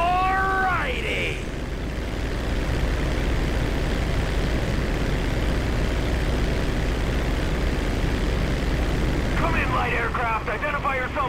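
A 1989 crop duster plane flies in Grand Theft Auto V, its engine a steady, loud, droning hum that runs unbroken throughout, with short voices chiming in near the start and end.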